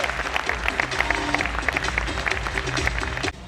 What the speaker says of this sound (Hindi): ताली बजा दो प्लीज एक बार